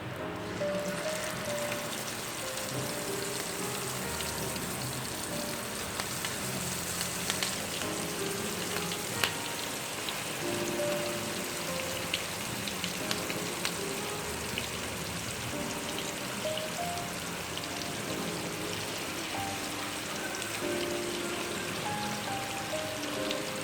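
Whole garlic cloves and fish frying in oil on a flat tawa over medium flame, a dense, even sizzle resembling steady rain, with faint pops and occasional clinks throughout, no voices.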